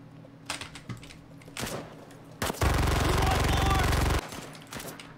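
Automatic gunfire in the video game Cuisine Royale: a few scattered shots, then a loud, sustained burst of rapid rounds lasting over a second, followed by a couple of quieter trailing shots.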